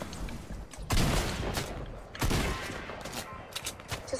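Gunfire in the Fortnite video game, a burst of shots near 1 second and another near 2.3 seconds, loud and close against steady game noise.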